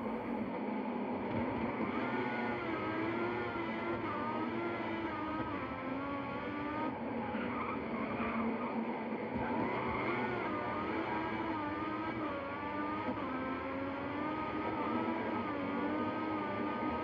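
A Formula 1 car in the F1 2014 game at Austin, running on hard tyres, gives a continuous high, wavering engine whine that rises and falls with revs across the lap, fairly quiet and alone without talk.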